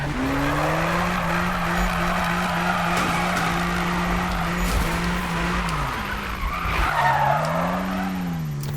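A BMW M2 in the racing game Need for Speed slides through a drift, its engine note droning loud and steady while tires squeal continuously, the pitch dipping and rising again near the end, with no talking.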